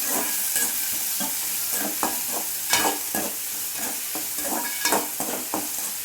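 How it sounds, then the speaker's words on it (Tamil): Chopped onions and curry leaves sautéing in a pan give a loud, continuous sizzle, broken by frequent rhythmic scrapes and knocks of a spatula stirring close up, with no talking. "அடுத்ததாக அரிஞ்சு வச்சுருக்கிற வெங்காயம் இதை நம்ம போட்டுக்கலாம். நல்லா வதக்கிக்கலாம்."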